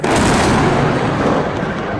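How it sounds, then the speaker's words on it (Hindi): A dense, sustained roar of blast noise fills the air near Nur Khan airbase in Pakistan, loud and rumbling with no clear gaps, and no voices over it. "ये अभी एक दूसरा ब्लास्ट भी हुआ है हमारी ये नूर खान एयर बेस पे"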